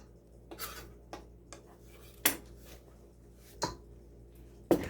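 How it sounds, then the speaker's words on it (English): Egg mixture is stirred in a bowl, with soft rubbing strokes broken by several sharp clinks of a utensil against the bowl, spaced irregularly and fairly close, with no voices. "Then we're going to mix it up really good."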